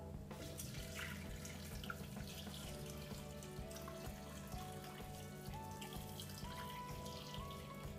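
Boiling water pours steadily from a kettle into a pot holding rabbit, oil and black peppercorns, a quiet continuous splashing and trickling stream heard up close with a low hum in the background.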